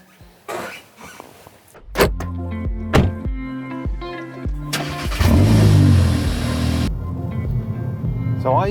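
A car gets underway: a few solid door thunks and clicks are followed by the engine starting and a loud, sustained rise in engine noise as it pulls off, with faint cabin sounds afterward.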